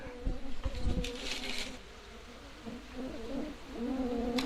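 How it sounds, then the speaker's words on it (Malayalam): Stingless bees swarm and buzz steadily around a freshly split hive colony, a close, continuous insect drone with a brief louder burst early on. "ഉണ്ടോ പൂമ്പൊടിക്കായിട്ട് ഈച്ച വന്നേ പെട്ടെന്ന് കയറിയത്"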